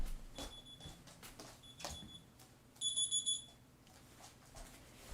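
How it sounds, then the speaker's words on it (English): An electronic alarm goes off indoors with short, shrill, high-pitched beeps in separate bursts, ending in a louder triple beep near the end, among faint knocks and handling noise. "Okay, that's my alarm. Turn it off."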